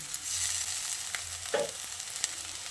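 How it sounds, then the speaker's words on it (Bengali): Onion frying with ginger garlic paste, a moderate hiss in the pan with a few distinct spoon scrapes and taps, one fuller stir near the middle. "এবার এই আদা আর রসুন বাটাটা দিয়ে পেঁয়াজের সঙ্গে আরও কিছুক্ষণ ভেজে নিতে হবে"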